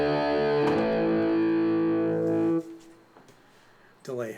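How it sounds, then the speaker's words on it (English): A distorted, guitar-like keyboard chord played as open fifths rings out loudly and sustains, then cuts off, leaving faint noise and a short burst of sound at the end. "When you're trying to emulate guitar on keyboards, play open fifths"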